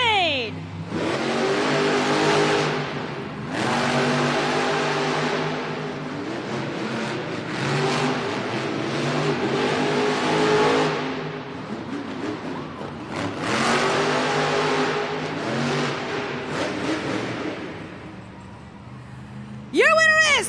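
Monster trucks roar and race at a Monster Jam event in Hampton, Virginia, loud engines surging in long revving bursts that rise and fall, with a crowd and announcer voice mixed underneath.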